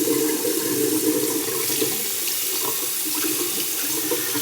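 Running tap water pours steadily as a synthetic shaving brush is rinsed under it in a sink, a continuous close hiss and splash with small shifts in the flow and no talking.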